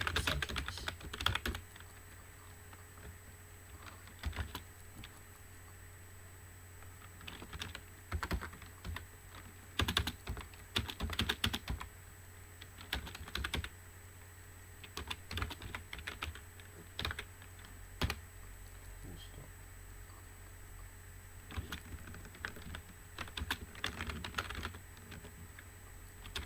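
Quiet, close clatter of typing on a computer keyboard, coming in uneven bursts of keystrokes with short pauses over about half a minute. Nobody speaks.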